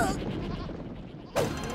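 Cartoon goats bleat under a rush of animated action, a quavering cry mixed with voices talking and noisy scene effects.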